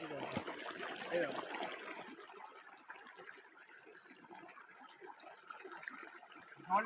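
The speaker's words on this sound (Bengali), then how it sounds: "এই দেখো এইখান থেকে নামছে জলটা কি সুন্দর এই জলটা" Water flowing down a small stream on a bike trip to Belpahari in Jhargram, a steady nearby gushing trickle under someone talking.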